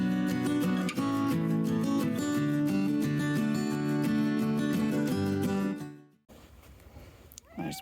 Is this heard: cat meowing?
yes